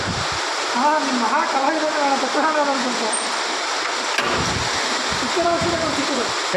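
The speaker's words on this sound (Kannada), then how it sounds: "ಮಳೆ ನೀರನ್ನ ಜುಗಾಡ್ ಮಾಡ್ತೀವಿ. ಅಷ್ಟು ದೂರ ಹೋಗ್ಬೇಕು ಅಂದ್ಬಿಟ್ಟು ಇಲ್ಲೇ ನೀರು ಹಿಡಿತಾ ಇದ್ದೀವಿ." Rainwater runs steadily into a container being filled, a constant splashing rush that carries on under people talking nearby, with a brief heavier splash partway through.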